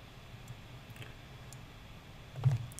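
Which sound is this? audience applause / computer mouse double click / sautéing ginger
computer mouse double click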